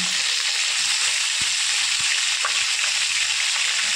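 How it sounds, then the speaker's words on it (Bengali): Pointed gourd (potol) slit and seasoned with salt and turmeric, frying in oil on low heat: a soft, steady hiss of sizzling fat with a few faint pops, no voices. "অল্প আঁচে ভালো করে সমস্ত পটলগুলো আমি ভেজে নেব"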